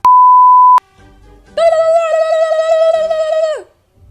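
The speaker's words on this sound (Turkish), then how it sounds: "Bu alarm niye böyle çalıyor acaba ya?" A loud electronic beep sounds, then after a short pause a longer buzzing alarm tone holds for about two seconds before cutting off.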